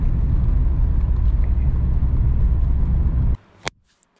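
Holden VS sedan with a 5-litre V8 heard from inside while driving: a steady, deep engine rumble that holds evenly and then cuts off abruptly near the end, leaving a single faint knock.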